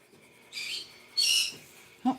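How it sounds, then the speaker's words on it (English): Birds call nearby in two short, shrill bursts followed by a quick chirp, with quiet indoors in between. "Oh, my birds have realized I am in here doing this. So you'll hear them weighing in here and there."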